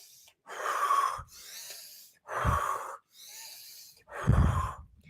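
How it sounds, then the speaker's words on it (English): Three deep, slow inhale-exhale cycles of Iceman-style breathing, each a loud, close rushing breath followed by a softer exhale, alone with no talk. "learn how to do that breathing, specific kind of breathing where it's really deep"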